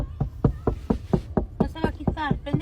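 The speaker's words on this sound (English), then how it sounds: "Random man keeps knocking on my window for 5 minutes." A man knocks on a car window, about a dozen firm, evenly spaced raps close by, with voices talking over the knocking.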